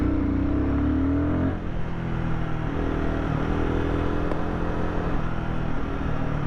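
Royal Enfield Guerrilla 450 single-cylinder motorcycle engine running steadily, a loud and close droning rumble that shifts pitch partway through as the revs change, with no voices.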